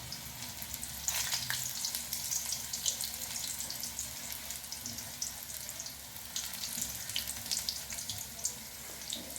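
Small pieces of sweet corn pakoda batter fry in hot oil with a continuous, fairly quiet sizzle and crackle, broken by occasional brighter pops and spatters, and no voices.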